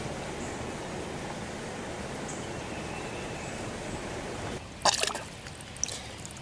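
A LifeStraw portable water filter is dipped into water, making a brief, quiet splash and trickle near the end after a stretch of faint, steady hiss.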